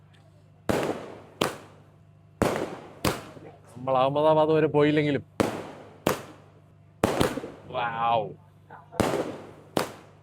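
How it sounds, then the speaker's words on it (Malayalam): Loud, sharp firecracker bangs go off one at a time at irregular intervals, celebrating an Indian cricket victory, with people talking briefly between blasts. "വെടിപൊട്ടിച്ച് ആഘോഷിക്കുകയാണ്"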